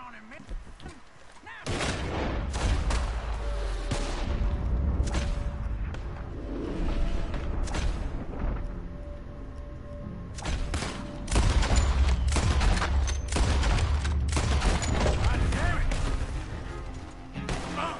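Heavy gunfire in Red Dead Redemption 2, with dense bursts of shots and booming blasts cracking out loud and close almost without pause, easing briefly midway before another intense volley.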